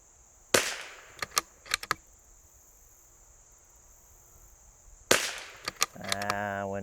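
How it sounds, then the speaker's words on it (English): A L3I Stinger .22LR rifle fires sharp, cracking shots in two quick clusters of about four each, outdoors in windy conditions with crickets chirping steadily behind; a voice starts just after the last shots. "Again, I'm shooting fast to keep this in the same wind."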